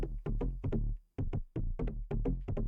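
Two layered bass synth lines from a minimal deep tech mix play together in a punchy, steady groove, with repeated note hits, a brief dropout near the middle, and no voices.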